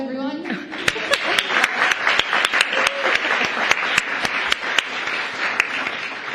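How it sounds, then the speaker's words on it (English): An audience at a COP28 climate event bursts into sustained applause, a dense wash of many hands clapping steadily for several seconds with a few louder nearby claps standing out. "Applause, everyone."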